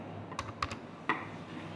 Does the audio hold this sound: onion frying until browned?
no